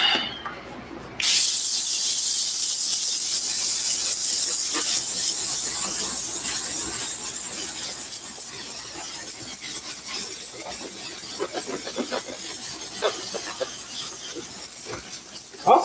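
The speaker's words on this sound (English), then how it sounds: "Let me steam this out as well." A garment steamer hisses steadily while steaming suede shoes during cleaning, a loud, broad continuous rush starting abruptly after a quiet moment and fading slightly, with light handling clicks and brief speech underneath.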